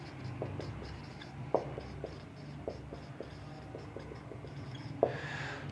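Chalk or marker tapping and scratching on a classroom board during a chemistry lesson, a string of short near strokes and clicks at an irregular pace over low room hum, with two sharper taps.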